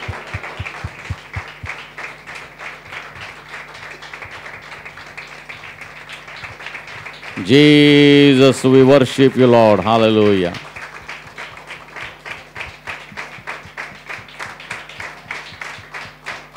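Congregation in a church clapping loudly together for several seconds of applause, preceded and followed by a worship leader speaking and praising over a steady background.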